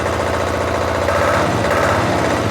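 A Weima diesel walk-behind tractor engine runs steadily close by, a loud, continuous low throbbing rumble with no voices over it.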